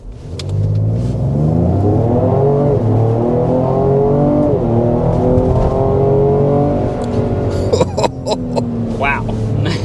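A 2025 Ford Explorer SUV accelerating hard on a test drive, heard from inside the cabin: a loud engine note climbing through several gear changes, with a brief shift break midway and faint voices near the end.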